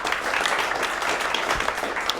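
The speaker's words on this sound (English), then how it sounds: "Give you a round of applause, please." A room of attendees at a Tech Alley Vegas meetup applauds, a moderate, even spread of clapping that continues steadily for a couple of seconds.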